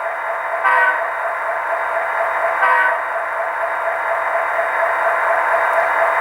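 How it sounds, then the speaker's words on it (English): Short horn from an Athearn SD60M model locomotive with a Tsunami 2 sound decoder, a steady synthesized horn tone with two brief accented blasts over a continuous engine hum, close and fairly loud. "And it does have the short horn on function 3."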